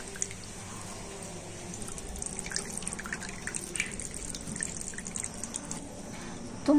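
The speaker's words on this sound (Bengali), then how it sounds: "এরকম হাত দিয়ে চিপলে তো টক দইয়ের মধ্যে এক্সট্রা যে জল আছে ঝরে যাবে" Water dripping from sour yogurt squeezed by hand in a kitchen, soft irregular drips and trickles over quiet background, ending with a brief louder sound.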